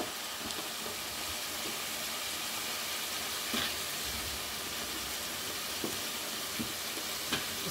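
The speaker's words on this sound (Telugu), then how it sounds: "ఇప్పుడు ఈ ముల్లంగి దుంపలు కూడా వేసేసుకుందాం." Radish pieces go into a pan of fried chicken in hot oil, giving a steady broad sizzle with a few soft stirring clatters and pops, close and even throughout.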